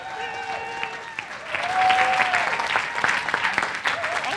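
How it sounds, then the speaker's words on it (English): An audience applauds someone speaker named Kaz as she takes the stage at a talk on self care and self trust, the clapping swelling midway and carrying on steadily amid faint crowd murmur. "So round of applause for Kaz."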